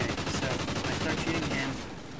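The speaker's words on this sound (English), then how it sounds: "So I start shooting him, turn around." Rapid automatic gunfire in a Call of Duty match, a dense stream of sharp repeated shots over game sound with a voice talking underneath.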